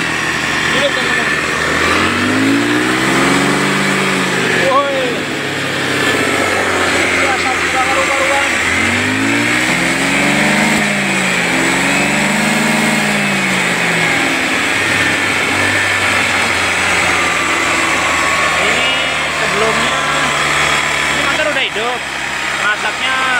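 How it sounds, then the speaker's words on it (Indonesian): A Honda Scoopy scooter runs with its exhaust removed. The raw engine note is loud and close, with repeated rising and falling revs over a rough idle that continues throughout. "kita hidupkan tanpa knalpot dulu teman"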